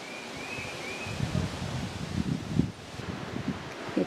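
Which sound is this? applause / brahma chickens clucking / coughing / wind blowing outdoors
wind blowing outdoors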